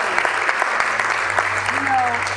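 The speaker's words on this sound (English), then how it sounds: "Let's give Jesus a round of applause because he's the one." A church congregation applauds, a bright patter of clapping with a few voices and faint tonal sounds mixed in beneath it.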